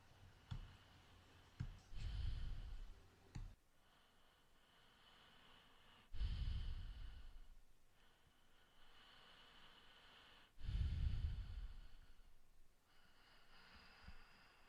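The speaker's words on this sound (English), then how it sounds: "You can hear me breathing in the background. I'm using rhythmic breathing." Slow, rhythmic breaths close to the mic, three long airy inhales or exhales spaced evenly apart, with a few small clicks and quiet pauses between.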